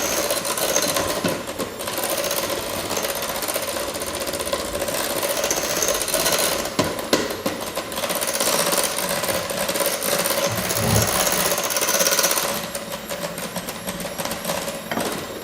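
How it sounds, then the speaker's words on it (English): Electric mixer whisking butter on medium speed, a steady close whirring and rattling drone that runs throughout and drops slightly near the end, with no voices. "you want to whisk the butter for about 30 seconds on medium speed so it gets light and fluffy"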